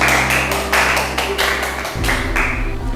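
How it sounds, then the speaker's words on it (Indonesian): A classroom group applauding together after a student presentation, loud, even claps in a steady repeating rhythm, close by, over a constant low background hum. "silakan tepuk tangan dulu ya untuk kelompok yang sudah presentasi"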